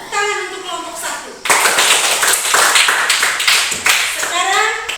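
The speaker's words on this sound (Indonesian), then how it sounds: "Tepuk tangan untuk kelompok 1." Schoolchildren in an Indonesian classroom clap together for a group returning to their seats, a burst of close, bright clapping that starts abruptly after a teacher's voice and fades as she speaks again.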